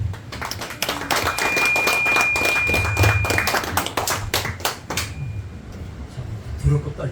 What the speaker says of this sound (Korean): 큰 박수로 뜨거운 환영을 해주시기 바랍니다